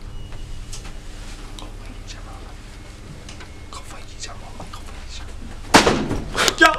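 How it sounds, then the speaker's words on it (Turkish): Quiet video-game ambience with faint rustles and soft murmurs gives way to a sudden loud door slam near the end, followed by a brief burst of noise. "Oğlum kapı kapandı"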